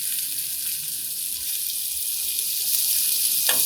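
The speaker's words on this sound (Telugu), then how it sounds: "కనుక చిన్నగా ఒక్కొక్క కాయని ఇలా తిప్పుకుంటూ వేయించుకోండి" Stuffed bitter gourds fry in oil in a pan as each one is turned, giving a steady, close sizzle that holds at an even level, with a faint clink near the end.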